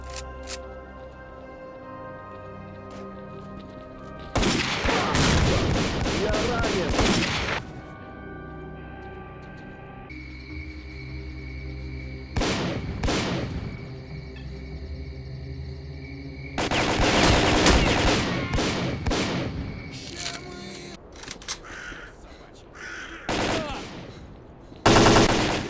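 Gunfire from the video game S.T.A.L.K.E.R. Call of Pripyat, with several loud automatic bursts spread across the clip over a steady ambient game background.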